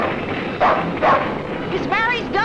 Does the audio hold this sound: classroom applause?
no